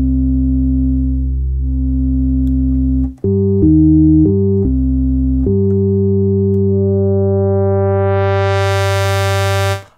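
Cherry Audio Sines software synth playing a held harmonic tone with its super oscillator an octave above, a few quick note changes midway, upper harmonics brightening toward the end; steady, loud and alone.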